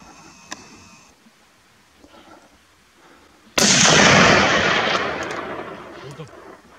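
A single loud, close gunshot rings out during a wild boar hunt, a sharp blast followed by a long echoing decay after a quiet stretch with faint rustling.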